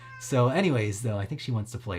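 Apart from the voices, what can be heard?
cat meowing in the background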